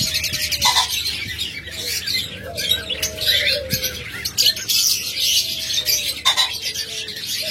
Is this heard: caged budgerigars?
yes